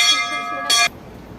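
Bright metallic bell at a Hanuman temple struck twice, a ringing tone that fades before a second short, sharp strike cuts off quickly.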